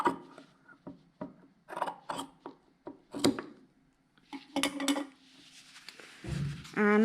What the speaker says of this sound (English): I'm going to cut all that out. So I'm going to cut all the way down.